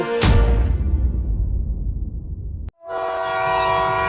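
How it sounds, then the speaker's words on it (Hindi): A cartoon train pulls to a stop in a jungle: a loud horn blast opens, a rumbling, squealing slowdown follows, then a brief cut and a sustained tonal hiss. "ये ट्रेन तो इस जंगल में रुकने लगी।"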